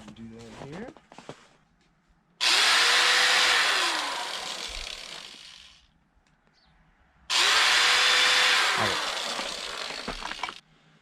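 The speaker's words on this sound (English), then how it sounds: "take your cut piece of PVC pipe and just drill 2 holes in the back" A power drill bores two holes into a cut piece of PVC pipe, two loud sustained bursts of a few seconds each separated by a quiet pause, with brief handling sounds before the first.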